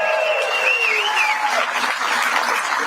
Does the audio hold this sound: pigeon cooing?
no